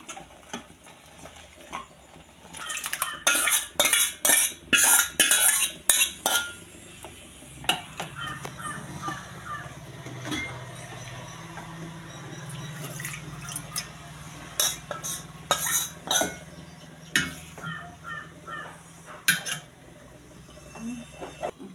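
Utensils clatter and clink in a pan while spinach dal is tempered with vadagam, a dense burst of sharp metallic taps early on followed by scattered clinks over a low sizzle.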